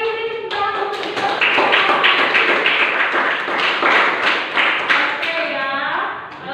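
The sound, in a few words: class clapping hands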